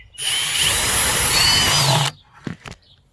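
A power drill bores a 1/2 inch hole through a plastic bucket for a self-watering garden container, a loud steady whine lasting about two seconds, then stopping abruptly, followed by a few faint clicks and handling knocks.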